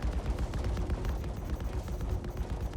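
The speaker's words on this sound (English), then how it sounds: "Shooting the goddamn Polaris." Continuous laser gunfire pours at the Polaris during a video game space battle, a dense, steady barrage of rapid shots with a low rumble, loud and unbroken throughout.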